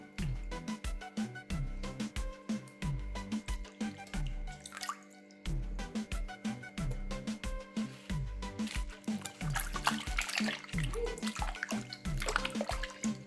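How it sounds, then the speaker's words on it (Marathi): Safflower greens are washed by hand in water, close-up splashing and sloshing in a quick repeated rhythm with drips and squishes, continuous and fairly quiet, no voices. "चला सर्व भाजी धुवून घेते आता."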